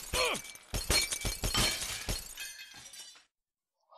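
Glass panels shattering in the video game Happy Wheels, several loud crashing breaks in quick succession with tinkling debris, then a brief quiet.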